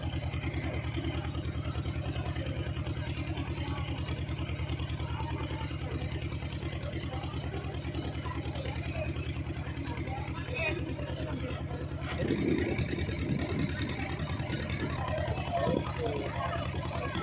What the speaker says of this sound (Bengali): আর আপনারা সামনে যে বোটটা দেখতে পাচ্ছেন, এই বোটটা সুন্দরবন ট্যুরের বোট